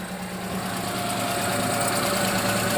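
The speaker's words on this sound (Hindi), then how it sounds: "आपको पहले आवाज़ सुनवा देते हैं, तो गाड़ी को स्टार्ट करते" A car engine idles with a leaking silencer, giving a steady, close rumble with a rough, knocking texture that stays even throughout, with no talking.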